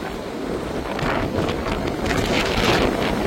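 Strong wind gusts roar during storm Floriane, a dense, loud rushing blast that buffets the microphone and swells slightly toward the end, with no talking.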